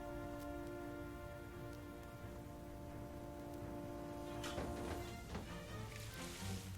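Steady rain pattering in a quiet, faint wash, with a sustained hum beneath that drops away near the end, where a few sharper drips and splashes come through.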